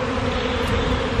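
A dense swarm of bees buzzes close by in a continuous, loud drone with no pauses and no voices.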